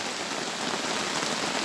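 Rain falls steadily and densely, a continuous close patter on surfaces with no pauses and no voices.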